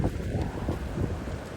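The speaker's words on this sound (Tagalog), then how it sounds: "Grabe guys, sandstorm." Sandstorm wind gusting outdoors in Eastern Saudi Arabia, a steady, dense roar buffeting the microphone close up throughout, with no voices.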